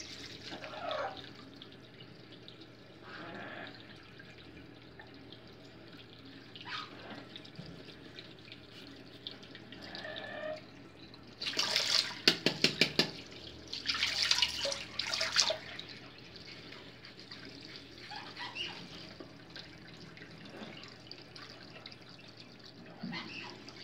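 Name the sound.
water running from a tap while shaving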